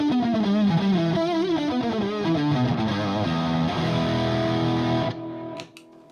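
An electric guitar plays through a Boss JB-2 Angry Driver pedal into a Fender amp, giving loud, fuzzy distorted notes that bend and sustain. It ends on a held chord that is cut short and followed by faint clicks.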